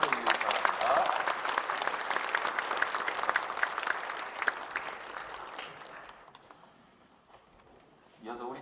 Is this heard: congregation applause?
yes